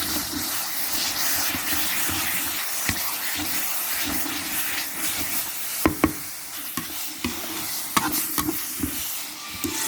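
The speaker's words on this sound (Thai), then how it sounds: "แล้วก็คนเนี่ยนะ คนให้แห้งเลยนะคนให้แห้ง" Steamed mackerel chili paste is stir-fried in a pan with a steady sizzling hiss, while a utensil scrapes and taps against the pan. The sharper clicks cluster toward the end.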